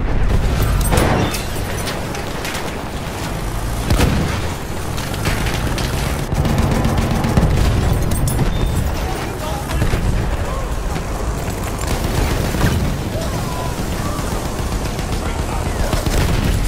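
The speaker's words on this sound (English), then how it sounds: "machine gun." Machine gun fire in the video game Battlefield 1 on PS4 Pro, a loud, dense rattle of rapid gunshots mixed with explosions and booms throughout, under an intermittent voice.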